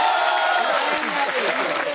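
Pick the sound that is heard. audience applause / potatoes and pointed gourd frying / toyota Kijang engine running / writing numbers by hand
audience applause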